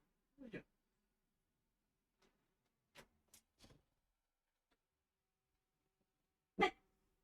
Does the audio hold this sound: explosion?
no